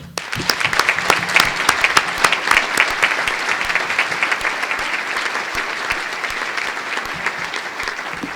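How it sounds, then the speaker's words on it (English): A crowd at a 2006 CHSAA Hall of Fame induction ceremony applauds the new inductees, sharp individual claps standing out over a sustained, even round of clapping that carries on for several seconds without talk. "Now for your round of applause"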